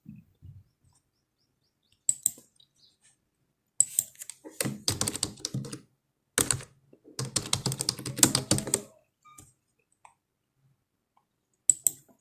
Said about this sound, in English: I will type here trainer or business coach.